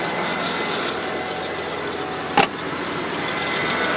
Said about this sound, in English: so you still hear a little bit of fluttering in the exhaust